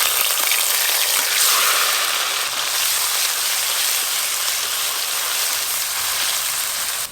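Bottle gourd leaf paste sizzling in hot oil tempered with black cumin, producing a loud, continuous hissing fry that holds steady and close throughout.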